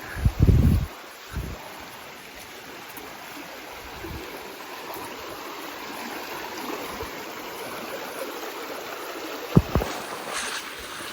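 A river flowing through the woods beside a cabin build site, a steady broad rushing of water that continues throughout, with a few close knocks and rustles near the start and a sharp thump toward the end.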